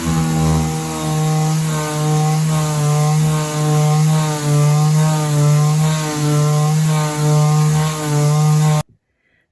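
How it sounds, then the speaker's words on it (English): A Black & Decker mouse sander runs loud and close with a steady electric whine and buzzing hum, its pitch wavering slightly as it moves across the surface, then cuts off abruptly at the end. "to sand, going to be using the Black & Decker mouse"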